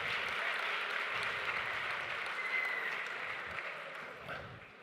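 Lecture-hall audience applauding at a first-semester welcome event: steady, dense clapping throughout, fairly uniform and not especially loud, tapering slightly toward the end.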